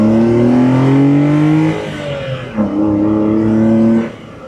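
Honda Beat with an HKS intake filter accelerating, a loud, close engine revving up through gears with a brief dip at each shift, then easing off at the end.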